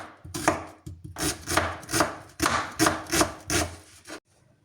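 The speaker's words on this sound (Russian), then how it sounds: "Лук буду резать вручную" A knife chops an onion by hand on a cutting board, about a dozen firm rhythmic strokes close up, then stops.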